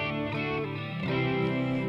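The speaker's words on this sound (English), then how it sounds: "chorus is chorus. It makes it sound like there's more than one of you." Electric guitar through a Boss Katana MkII amp with chorus effect, sustained shimmering chords with a doubled, wavering tone, close and steady, no voices.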